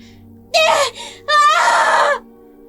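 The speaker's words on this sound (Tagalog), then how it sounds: "Sino kaya sumisigaw?" A woman screams twice in an audio drama sound effect: a short, piercing cry, a brief gap, then a longer, louder, wavering scream over a low steady hum.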